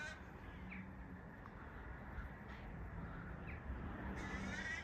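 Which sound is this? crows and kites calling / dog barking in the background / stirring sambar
crows and kites calling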